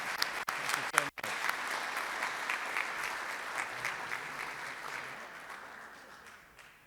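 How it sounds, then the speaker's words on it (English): Sustained audience applause for Jodie Gates at a Rotary club meeting, a dense steady wash of many hands clapping with a few sharp claps near the start, slowly fading toward the end. "let's give Jodie Gates a huge and warm round of applause"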